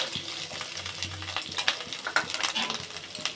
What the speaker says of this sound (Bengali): দিয়ে আমি ভালোভাবে ভেজে নেব